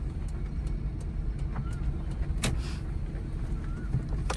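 A car drives steadily through a slow left turn during a driving lesson, its engine and road noise a continuous low rumble, with a couple of faint squeaks in the cabin.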